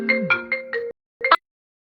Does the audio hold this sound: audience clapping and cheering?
no